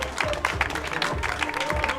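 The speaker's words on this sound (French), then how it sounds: "Macagno qui va franchir la ligne avec les applaudissements du public" Spectators clap as a junior cyclist crosses the finish line of a road race, a modest burst of applause with a few sharper claps standing out amid crowd noise.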